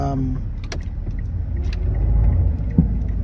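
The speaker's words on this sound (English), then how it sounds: "I'm making a video while I'm driving" A car on the road gives a steady low engine and road rumble throughout, fairly loud and close, with a brief faint tonal sound near the start.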